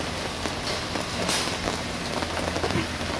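Steady rain falls across a golf course, a continuous near hiss of drops spattering on surfaces throughout with no voices.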